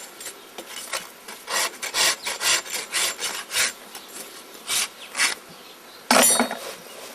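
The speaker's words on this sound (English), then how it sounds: "Then touch it up with the rasp again." A farrier's rasp files a Clydesdale horse's hoof with a series of close, rhythmic, gritty scraping strokes, about a dozen in steady succession, ending with a louder rasping pass.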